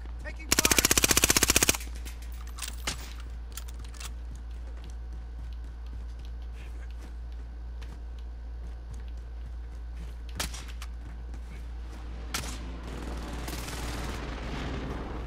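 Automatic gunfire in Call of Duty: Modern Warfare, a loud close burst of rapid shots at the start, then scattered single shots and distant battle noise over a steady low rumble.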